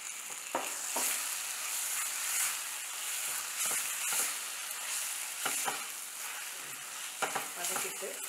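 Coriander and mint leaves are sautéed for ivy gourd kurma, a quiet, steady sizzle close by, with several brief stirring scrapes against the pan.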